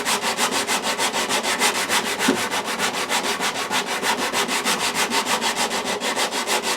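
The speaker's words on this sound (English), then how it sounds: "I usually kind of sand on an 8 count." Hand sanding on the wooden neck joint of a Larrivee guitar during a neck reset, a close, rhythmic rasp of quick even back-and-forth strokes repeating steadily with no talking.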